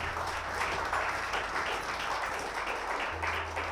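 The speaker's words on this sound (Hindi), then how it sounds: "मैम के लिए एक बार जोरदार तालियां हो जाए" Audience at a Women's Day award ceremony gives a speaker a round of applause, a full, continuous burst of many hands clapping at close range, with a low hum beneath and no speech.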